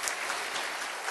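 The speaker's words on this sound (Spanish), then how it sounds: "Le damos un aplauso al Rey bendito" A church congregation claps in praise of the King, a dense, even wash of applause sustained throughout at moderate loudness.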